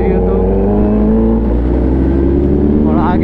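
Two Ducati superbikes, including a V4 SP, riding together on a Sunday group ride, their engines a steady loud drone with harmonic hum throughout, revving slightly toward the end.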